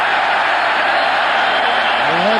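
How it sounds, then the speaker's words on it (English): A rugby crowd at the 1998 Tri Nations match between South Africa and New Zealand applauds the referee, steady broad clapping and crowd noise throughout, with a commentator's voice faintly entering near the end. "We have some people in the crowd standing and applauding the referee."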